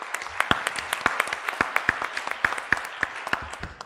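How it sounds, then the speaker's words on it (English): Conference audience at a session on remotely piloted aircraft regulation applauds the presenters, with many close, crisp hand claps rattling in a steady, moderately loud burst that continues throughout. "I applaud you, the audience, and their presenters."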